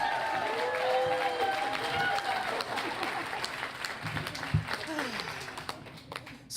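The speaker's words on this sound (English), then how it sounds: "Keep that clap going." A storytelling-event audience in Ann Arbor claps and cheers steadily, with voices and some music mixed in under the applause.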